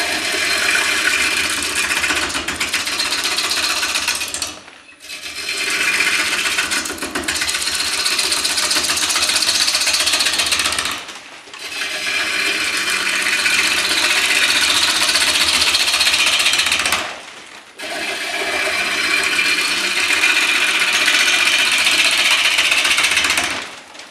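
Stratos XL wood lathe roughing out a large maple bowl, a loud continuous grinding whir of the gouge cutting, broken by three short pauses, no talk.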